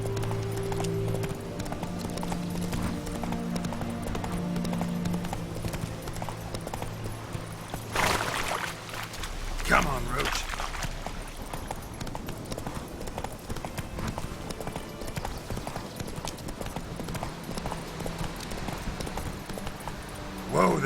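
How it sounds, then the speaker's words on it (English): Horse hooves clip-clop in The Witcher 3 video game, a steady trotting rhythm mixed with game music and ambience, with a voice speaking over parts of it. "Whoa there, Roach"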